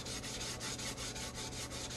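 A cloth wipes sanding film off a glitter tumbler in quick, even back-and-forth strokes, a close, steady rubbing rhythm with no talking.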